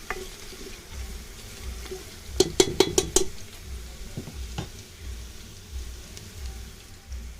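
Masala paste of ground tomatoes, green chillies, garlic and ginger hits browned onions frying in a pan for a mutton dish on a wood-fired chulha, giving a quick burst of scraping clatter over a steady low sizzle.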